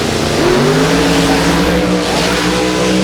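Drag race cars launch down a full quarter-mile strip at Toronto Motorsports Park in 2018, their engines roaring loud and close in a sustained, rising blast with no speech over it.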